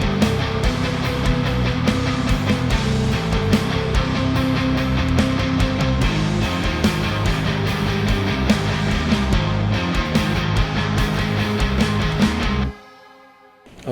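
A dense shoegaze mix of synth layers with tonal mallet drum hits plays loud and continuous, full of low-end weight, before cutting out abruptly near the end.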